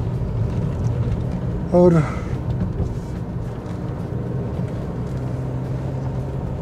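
A car's engine humming low and steady while driving a mountain road along the Bhagirathi river in Uttarakhand, with a brief tonal horn-like blip near the start and someone talking over it.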